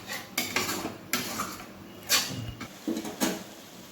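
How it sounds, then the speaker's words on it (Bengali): A metal spoon scrapes and clinks against a pan while spice paste and sour yogurt are stirred for Hyderabadi chicken masala, giving several separate sharp clatters with quiet pauses between them. "তো টক দইটা দিয়ে আমি জাস্ট আর একটু মশলাটা নেড়ে চেড়ে নেবো"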